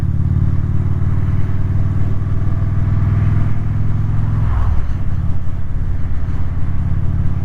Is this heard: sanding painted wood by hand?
no